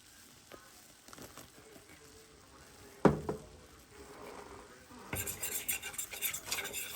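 Flour cooks in a roux for cheesy potatoes, with a metal utensil scraping and clinking against the pan, a loud clank midway, then a busier stretch of stirring and soft sizzling.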